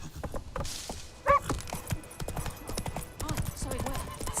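Horse hooves clip-clopping in The Witcher 3 around White Orchard, a steady rhythmic trot close by, with a voice speaking over the hoofbeats and a brief bright jingle partway through.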